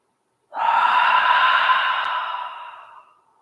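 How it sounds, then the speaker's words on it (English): A single deep, slow breath during a calm yoga relaxation: a long, airy inhale flowing into an exhale, about three seconds, close and steady, then fading, with no talking. "taking a really deep inhale. And exhale."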